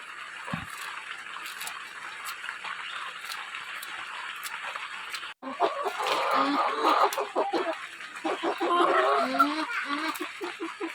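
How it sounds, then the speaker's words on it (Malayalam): Foraging hens at a village home in Wayanad, Kerala, cluck and murmur softly close by after rain, with faint crowing and a steady outdoor hiss behind them; the clucking grows busier in the second half. "കോഴി മേയുന്നുണ്ട്"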